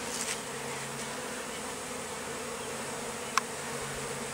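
Package honeybees fly in front of a hive entrance that has been reduced in size, making a steady, close buzzing hum that holds for the whole stretch, with one brief faint click partway through.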